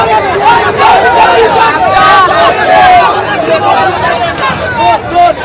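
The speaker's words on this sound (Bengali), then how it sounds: "শুভেন্দু অধিকারীকে লক্ষ্য করে জয় বাংলা স্লোগান দেওয়া হয় নন্দীগ্রামে" A large crowd in Nandigram, West Bengal, chants the "Joy Bangla" slogan at Suvendu Adhikari, a dense continuous roar of many voices that stays loud throughout with overlapping shouts.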